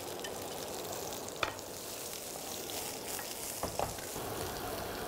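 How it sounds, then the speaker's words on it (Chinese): Iberian pork chop deep frying in hot oil, a dense steady crackling sizzle with occasional sharper pops, close and even throughout, no voices. "这次是要让它炸到 外面酥脆"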